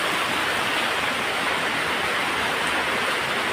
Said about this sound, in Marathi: भर पाऊस बघा तेवढा जोरदार पडतोय